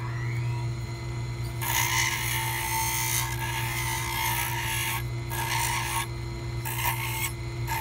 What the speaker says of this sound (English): I'm gonna move into this tapered burr.